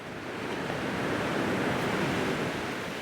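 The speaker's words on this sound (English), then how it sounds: "I never tire of looking at a river." A river in a Puerto Rico rainforest rushes steadily, giving a broad, even wash of flowing water with no pauses or voices.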